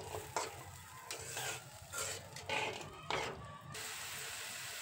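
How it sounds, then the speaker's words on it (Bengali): A spatula stirs Bhola fish curry masala in a pan just after water is added, giving quiet, repeated scraping and swishing strokes at an uneven rhythm. "জল দিয়ে খুব ভালো করে নেড়েচেড়ে একটু ফুটতে দেব"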